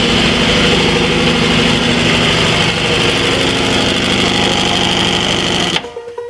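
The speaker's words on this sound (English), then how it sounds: "I'll turn off my air compressor." An air compressor in a garage runs loud and steady with a constant mechanical drone and rattle, then cuts off abruptly near the end.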